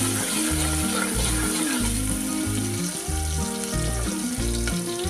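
Chopped onions fry in hot oil, browning for a Gujarati Maggi rice dish; a steady, even sizzle runs throughout beneath prominent background music, with no voices.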